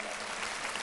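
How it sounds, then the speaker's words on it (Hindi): Audience at an Acharyakulam school event in Haridwar breaks into loud, dense applause that fills the whole brief moment. "एक बार जोरदार तालियां बजाओ भाई इनके लिए"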